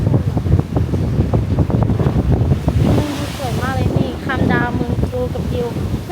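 Sea water splashes and rushes in gusty wind off Ko Si Chang island, loud and close with heavy wind buffeting, while people talk excitedly over it.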